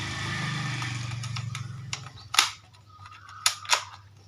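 A toy cap gun is fired outdoors, giving a few sharp, bright snaps. Two come close together near the end, after a fading low hum. No one talks.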